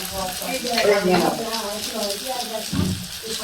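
Ginger frying with turmeric and chilli powder for a potato chop filling, a steady close sizzle with scraping stirring strokes, under a voice talking.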